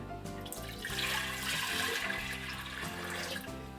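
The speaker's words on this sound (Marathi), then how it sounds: "सर्वप्रथम कुकर गरम करायला ठेवलं आहे त्याच्यामध्ये पाणी घालूया" Water poured into a pressure cooker heating on the stove before cooking wheat and chickpeas for ghugrya, a steady splashing rush heard beneath continuous background music.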